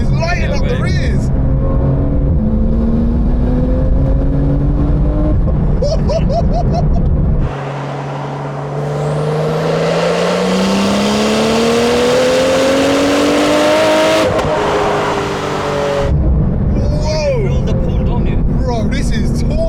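A Porsche 991 GT2 RS pulls hard from inside the cabin, its engine note rising steadily as the turbo builds, with a gear change midway and a second climbing pull; occupants talk loudly over it at the start and end.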